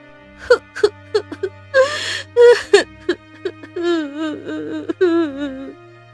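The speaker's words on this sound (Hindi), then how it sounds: "तभी उसे किसी के रोने की आवाज आती है" Someone crying in an animated story, sharp gasping sobs followed by wavering, moaning wails, close and loud against a quiet background.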